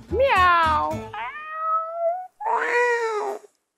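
A person imitates a cat's meow with several drawn-out vocal meows in a row, close and clear, with short gaps between them.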